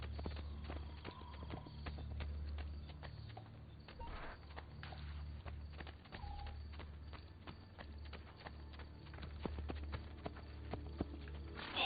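Horse hooves clip-clop in a steady walking rhythm in the Assassin's Creed 2 video game, moderately loud and continuous under a low game ambience, with no talking.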